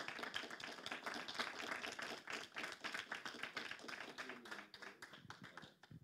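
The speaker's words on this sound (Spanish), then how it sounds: "os voy a pedir primero un aplauso, por favor, para tanto Matteo como a Frick." An audience at an art book event gives a round of applause, with many hands clapping in a quiet, distant patter that thins out toward the end.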